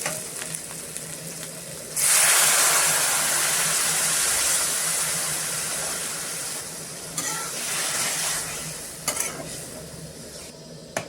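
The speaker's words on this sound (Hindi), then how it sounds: "अभी मैं थोड़ा सा पानी ऐड कर देंगे।" Water poured into a pan of village-style mutton fat curry sets off a sudden loud hiss and sizzle that slowly settles into steady frying and bubbling, with a few stirring clatters later.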